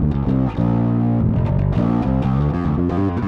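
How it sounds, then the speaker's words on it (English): A gritty bass guitar through an Electro-Harmonix Bass Soul Food overdrive pedal plays sustained low notes and short riffs, loud and up close with a rough, biting edge and no voices. "It's a distortion pedal. It's actually it's an overdrive pedal."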